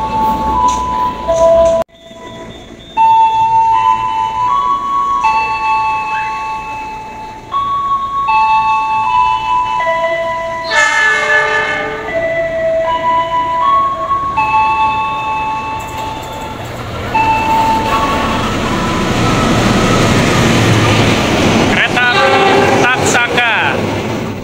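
Dwipangga train running straight through Tambun station without stopping, its rumble swelling loud toward the end, with melodic tones and a voice heard over it.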